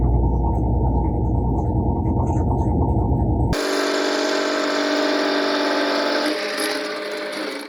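An electric drill spins an M29 Weasel track wheel held in its chuck, giving a steady, loud whirring hum that shifts to a higher whine partway through and keeps running to the end.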